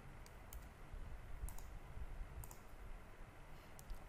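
Clicks from a computer keyboard, sparse and faint over a steady background hiss, with a few separate keystrokes spaced roughly a second apart.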